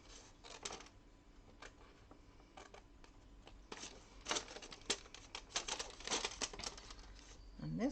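Scissors cut through a paper security envelope in a series of crisp, irregular snips and paper rustles, close and fairly quiet, growing busier toward the end.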